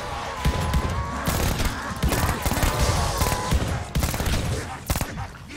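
Heavy gunfire in the zombie shooter Call of Duty: Vanguard Zombies: loud, dense volleys of rapid shots with brief gaps, continuous for several seconds, with a voice faintly under it.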